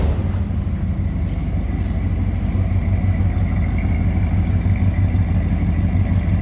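A 1985 Chevrolet El Camino with a 305 V8 idles with a steady, deep exhaust rumble, close and loud throughout without any talk.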